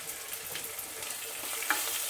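Onion, tomato, crushed ginger and garlic sizzle steadily in a hot pan while being stirred, a soft continuous frying hiss with faint scraping, close and fairly quiet.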